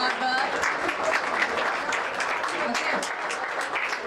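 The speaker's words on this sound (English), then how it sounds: "So all the applause to you, your hard work and your mentors' hard work" Applause for students at a junior college science fair, a dense steady wash of many hands clapping throughout, with murmured voices mixed in underneath.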